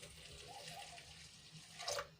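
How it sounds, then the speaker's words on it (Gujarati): Faint, steady splashing of water being poured into a pot, with a brief louder splash near the end. "હવે એમાં આપણે થોડુંક પાણી એડ કરીશું"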